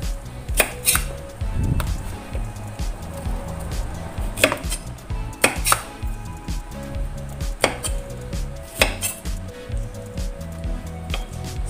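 Knife slicing okra on a cutting board for an Indonesian stir-fry, with a steady run of crisp, close chopping taps against the board and soft squishy cuts under light kitchen background noise.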